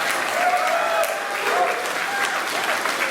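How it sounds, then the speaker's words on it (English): An audience at a 2022 hall of fame induction ceremony gives sustained applause. The clapping is dense and even throughout, with a faint murmur of the crowd underneath. "Let's give her a big round of applause."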